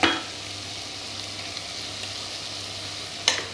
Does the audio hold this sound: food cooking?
yes